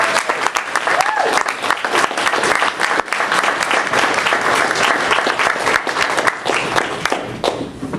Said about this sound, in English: round of applause for Jennifer Shaffer